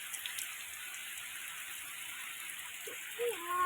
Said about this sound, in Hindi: केते जोर वर्षा हो